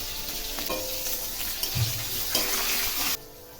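Potatoes and onion frying with cumin, salt and turmeric in a pan, a close, steady sizzle with a few stirring scrapes and knocks before the sound cuts off abruptly.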